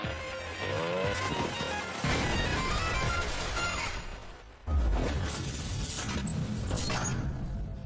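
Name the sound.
car drifting with tire squeal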